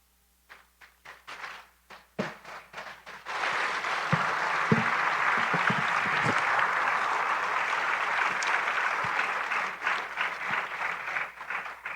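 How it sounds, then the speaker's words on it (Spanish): An audience at a religious conference gives applause, starting with a few scattered claps, then swelling into sustained, dense clapping that holds steady before thinning slightly toward the end. "nuevamente démosle un fuerte aplauso"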